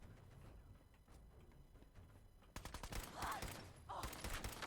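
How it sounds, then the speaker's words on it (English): Bursts of rapid gunfire in Fallout 4 crackle from a distance, faint at first and then louder in clustered volleys over the second half. "We can see the gunfire."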